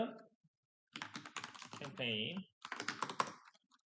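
Typing on a computer keyboard while entering a campaign name, light clicks mixed in with someone talking in Korean close by, the voice dominating.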